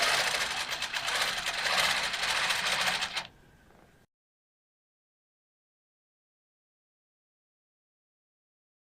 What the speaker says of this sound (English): I'm just going to keep stitching up that side